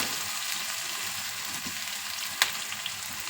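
Fennel seeds frying in a pan for egg pulao, a steady bright crackling sizzle close up, with one brief sharp pop partway through.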